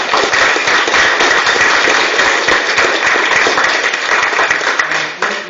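Close, sustained applause from a Master Gardeners general meeting audience greeting new members, a dense steady patter of many hands clapping throughout.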